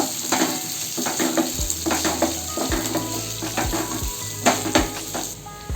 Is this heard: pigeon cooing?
no